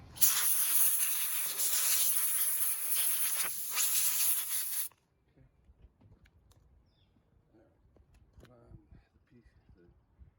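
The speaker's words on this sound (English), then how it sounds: "let's blow out the air cleaner." Compressed air blasting through the air cleaner of a Troy-Bilt TB110 lawn mower with a Briggs EX engine: a loud, steady rushing hiss for about five seconds that stops abruptly, followed by faint handling noises.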